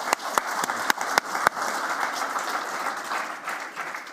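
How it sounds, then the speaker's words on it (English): A room of listeners at an interview event breaks into a round of applause, a few sharp individual claps at first building into a steady wash of clapping that continues throughout. "in honor of him, give him a round of applause."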